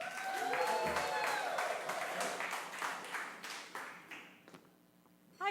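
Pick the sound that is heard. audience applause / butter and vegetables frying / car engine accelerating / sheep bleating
audience applause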